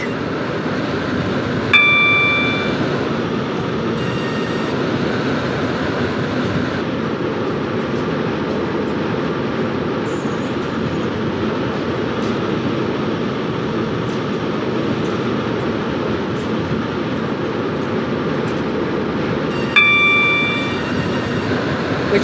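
Steady rumble of a train in a video game, running throughout, with a couple of short chime dings near the start and end; no talking.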